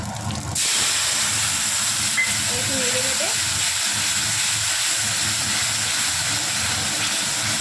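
A paste of ground poppy seeds and cashews hisses and sizzles in hot oil in a pan, a loud steady frying hiss that starts abruptly and carries on unbroken, with a voice speaking faintly beneath.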